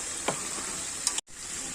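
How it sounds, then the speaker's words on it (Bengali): Ginger, cumin and chilli sizzling steadily in hot oil for chicken curry, close and constant, with a couple of brief stirring scrapes and a short break near the end. "মুরগি মাংসের মশলাগুলো কষে নিচ্ছে এটা আদা জিরা লঙ্কা"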